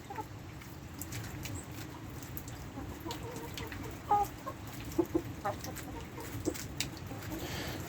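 Wet, bedraggled backyard chickens pecking at greenery, with soft clucks and a few brief squawks close by over a steady outdoor background.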